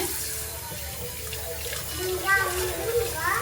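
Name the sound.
washing an onion under running tap water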